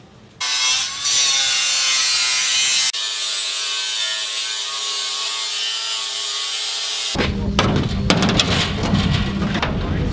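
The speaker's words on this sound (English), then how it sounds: "So we buff down with the flapper wheel down to that line." A flap wheel buffs an aluminium pontoon dinghy hull surface flat, a loud continuous abrasive whine that shifts pitch partway through and ends in harsher, rattling grinding.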